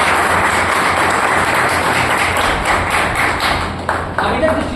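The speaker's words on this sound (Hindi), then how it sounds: "मैं चाहूंगा ऐसी कंपनी के लिए जोरदार ताली" Audience applause at an indoor health and wealth awareness program, a steady dense wash of clapping from a large crowd that holds for several seconds with a few sharper claps near the end.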